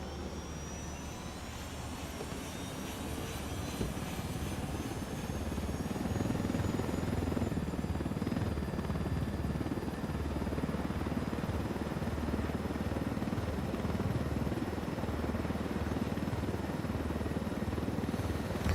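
A helicopter flies steadily in a video game, a loud, continuous rotor and turbine roar with a faint high whine that holds throughout, with no voices.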